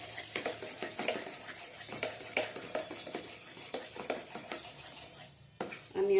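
Patra batter mixed with oil is beaten in a bowl, a close, quick rhythmic scraping and tapping of utensil against the bowl that continues steadily, then briefly pauses near the end.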